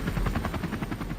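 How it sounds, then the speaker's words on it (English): Rapid rhythmic thumping of helicopter rotor blades heard from inside the cabin as it heads out over the North Sea toward a gas installation, loud, close and steady. "we've just boarded the helicopter, ready to head out over the North Sea"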